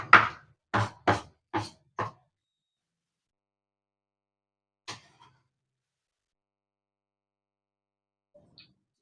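Onions being chopped with a knife for a Telugu tomato chicken curry: a quick run of five sharp board chops close by, then silence with a single later thud and a couple of faint ticks.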